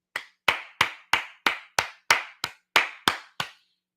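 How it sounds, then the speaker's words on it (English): About a dozen sharp hand claps in steady, evenly spaced rhythm, each crisp and close with a quick decay, with no voices alongside. "Pardon me while I stand up and applaud"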